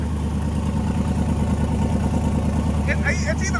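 Race car engine idling with a steady, lumpy low rumble throughout, close by, with brief faint chirps near the end.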